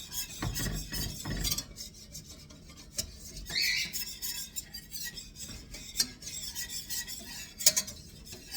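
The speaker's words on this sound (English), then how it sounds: "Now I have to cook this flour." A utensil stirs and scrapes flour cooking in a pan for gravy for beef liver, with irregular rasping strokes and metallic clinks, fairly close and quiet, and no talking.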